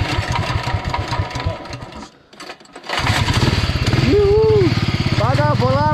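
A go-kart engine revs up with a rising buzzy whine under a loud, continuous drone, briefly dropping out before picking back up and climbing in pitch, close by, with some voices heard over it.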